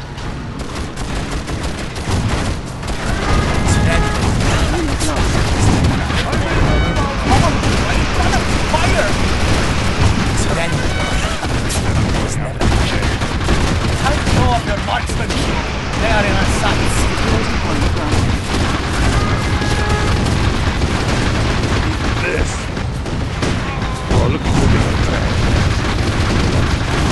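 Continuous dense battle noise in the real-time strategy game Rise of the Reds: loud overlapping gunfire and booming explosions for the whole stretch, with unit voice lines mixed into the din.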